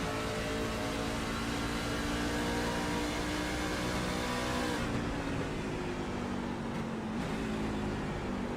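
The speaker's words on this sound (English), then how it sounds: "There you hear the shift down into 3rd gear." Race truck engine at a Gateway trucker series race, a loud sustained rev that drops in pitch as it shifts down into third gear about halfway through, then keeps roaring with brief dips.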